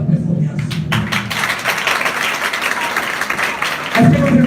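An audience claps through a performance, and the applause runs as a dense, continuous patter of hands from start to finish, with voices mixed in beneath it.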